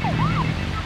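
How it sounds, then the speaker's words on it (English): In the video game Deadly Premonition, a police car siren wails in a rising and falling sweep over steady engine and road noise while the car is being driven. "I have the siren on because, as you can see on the speedometer,"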